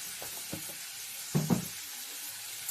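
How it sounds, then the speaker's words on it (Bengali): Potato pieces frying in a pan with turmeric and salt, giving a quiet, steady sizzle with a few soft stirring knocks and one brief louder scrape near the middle. "আলুটাকে ভালো করে ভেজে নেব"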